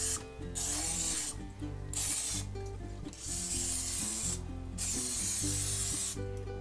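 Several hissing bursts of nonstick cooking spray into a loaf pan, close and steady, each lasting about a second with short pauses between.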